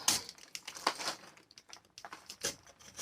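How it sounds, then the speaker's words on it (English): A utility knife scores and tears the paper backing of drywall, giving a run of dry crinkling, scraping rasps in short uneven bursts, close by. "then you take your utility knife on the back side of it"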